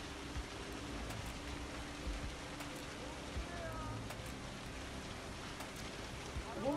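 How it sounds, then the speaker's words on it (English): Large hailstones up to 5 centimeters pelting house roofs and cars during a severe storm in Kayseri, Turkey, a dense, steady hiss of impacts with scattered sharper hits throughout, no voices. "Thick hail covered the roofs of houses and cars."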